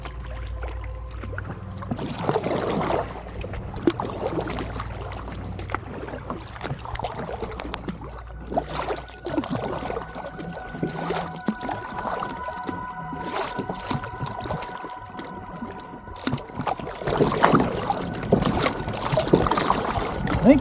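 A lone kayaker paddles across a lake on the Devils River, with steady water sloshing and dripping strokes against wind noise buffeting the microphone, a continuous close outdoor wash with no talking.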